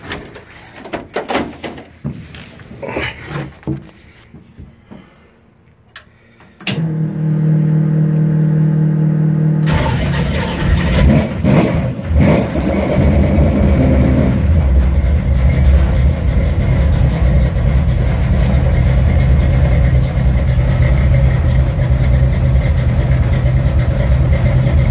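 A 1948 Willys Wagon fitted with a 401 engine, already warmed up, clicks and cranks, then fires and settles into a loud, deep, rumbling idle that holds steadily close by with slight revving.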